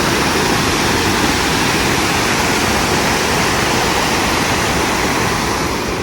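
River water pours steadily over a semicircular man-made weir, a dense, loud, unbroken roar heard close with no voices.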